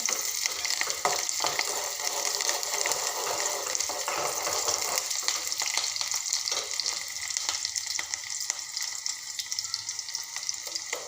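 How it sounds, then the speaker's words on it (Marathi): Chopped onion frying in a pan for a green amaranth (maath) vegetable dish, giving a steady, close, dense sizzle with occasional stirring scrapes and no voices throughout. "आपला कांदा हलकासा शिजत आलेला आहे"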